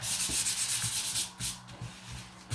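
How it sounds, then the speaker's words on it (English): Fine sandpaper rubs back and forth over a craft sign in quick, even strokes, a close, breathy scratching that repeats rhythmically and pauses briefly midway. "give this a sand. We'll use the fine sandpaper."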